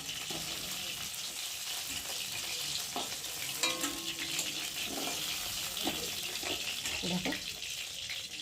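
Tengra fish and potatoes frying in hot oil, a steady sizzle with occasional stirring scrapes and clinks nearby, alongside some quiet talk.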